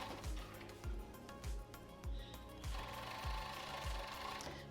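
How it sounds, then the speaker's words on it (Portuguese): A sewing machine stitches children's underwear, its needle thumping in a steady, regular rhythm of about one and a half beats per second, close but fairly quiet, with faint fabric handling behind it. "Vou colocar pontinha com pontinha e vou dar sequência na costura."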